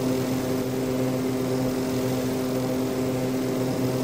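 Airplane in the Extreme Landings Pro flight simulator game taking off down the runway, a loud steady engine and propeller drone with strong sustained tonal hum throughout, no voices.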